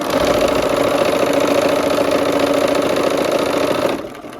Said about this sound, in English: let's go ahead to the machine. Okay, let's go ahead and sew this seam.